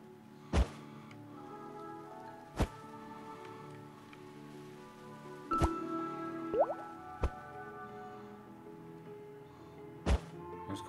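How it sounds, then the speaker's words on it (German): Water dripping in the clay-sculpting game Claybook: a handful of sharp, separate drips and thunks, spaced seconds apart over a soft steady hum, with no talk. "Jetzt kommt da Wasser raus."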